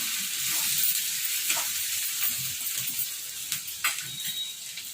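Onions frying in oil for a raw mango and tamarind leaf curry, a steady close sizzle and hiss with occasional sharper crackles and stirring scrapes, no talking.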